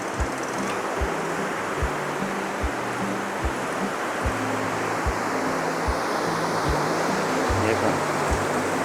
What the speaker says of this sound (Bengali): জলটা তো ভালোই আসছে।